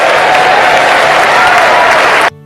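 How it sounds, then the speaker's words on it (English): A large crowd at a Donald Trump speech breaks into loud, dense applause that holds steady for about two seconds and then cuts off abruptly. "Something that came up with a lot of applause, a lot of adulation when it came to that specific issue about gender"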